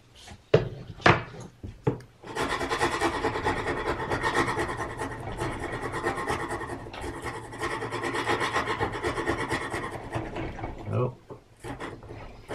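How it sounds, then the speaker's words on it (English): A chisel pares wood away from a small transition, giving a steady, close scraping rasp for several seconds after a few sharp taps, with some talk nearby. "Then there's a small transition here, which I'll remove with a chisel."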